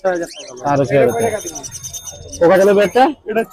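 Caged birds call at the Mirpur 13 bird market, with bursts of chirps and coos mixed with nearby human voices in a busy, close setting.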